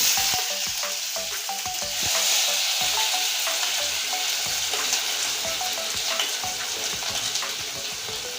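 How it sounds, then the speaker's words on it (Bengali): Chopped onion sizzles loudly in hot oil, a dense steady crackle broken by scattered pops and the occasional scrape of stirring. "কুচানো পেঁয়াজটা তেলের উপরে ছেড়ে দিচ্ছি"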